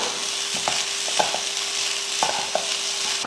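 Beetroot egg rice stirred in a pan over a low flame: a spoon scrapes and taps against the pan in a few quick bursts over a soft, steady sizzle, with no talking.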